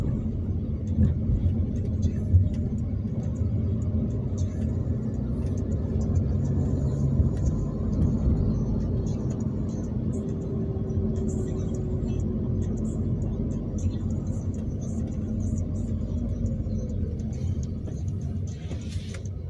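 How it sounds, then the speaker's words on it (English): A car driving steadily through a residential neighborhood in South Florida, with a low continuous engine and road rumble heard from inside, fairly quiet and even throughout. "driving through the neighborhood"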